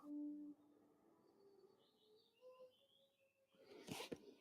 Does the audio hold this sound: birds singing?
yes